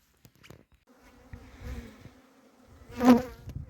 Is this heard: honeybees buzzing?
yes